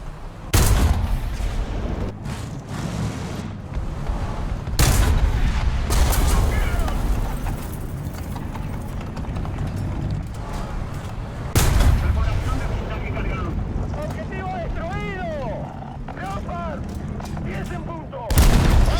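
In a tank combat video game, cannon shots from a TAM 2IP boom sharply at several spaced intervals. Bursts of gunfire and battlefield noise fill the gaps, with loud, close reports that stand out.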